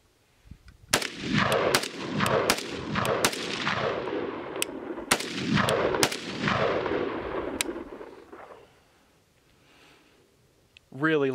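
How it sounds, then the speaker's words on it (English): WASR-3 5.56 AK rifle fired at an outdoor range, a string of loud sharp single shots in uneven rhythm with echoing tails, then a quiet stretch before a voice starts at the end. "So let's shoot some stuff."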